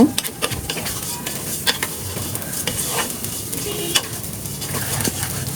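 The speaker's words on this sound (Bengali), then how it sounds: "একটু ভালো মতো ভেজে নিব" Rice grains for khichdi sizzle and crackle in a hot pan while a utensil scrapes and clinks against the metal in repeated strokes, close up.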